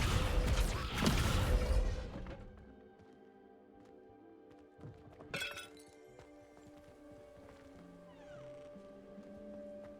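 In Hogwarts Legacy, the Descendo spell is cast in a ruin. A loud crashing, shattering burst comes first and fades into clinks and a quieter magical shimmer.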